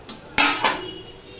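A spoon knocks three times against a cooking pot while potatoes, pointed gourd, eggplant, drumsticks and pumpkin are stirred together for a vegetable jhol, sharp metallic clanks with a short ringing tail, close and without talk.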